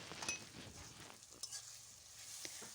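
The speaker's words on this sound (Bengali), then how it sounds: "আদা আর রসুন বাটাটা ভালো করে নেড়ে চেড়ে বেশ কিছুক্ষণ ভেজে নেব।" Ginger and garlic paste frying in mustard oil with fried onions, stirred in a pan for a goat curry with potatoes; a soft steady sizzle with occasional scraping and clinks of the spoon, fairly quiet.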